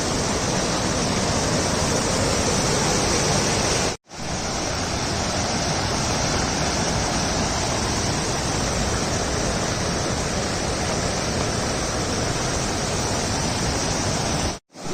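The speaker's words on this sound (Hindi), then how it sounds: "तो दोस्तों अभी मैं इस नदी को पार करने वाला हूँ।" River water rushes loudly and steadily during a crossing in a rain-soaked forest, a dense broadband roar that fills the whole clip apart from two abrupt brief dropouts.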